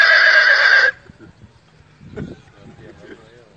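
A man mimics a horse's whinny with his voice in one loud, sustained neigh lasting nearly a second, followed by quieter background talk and noise.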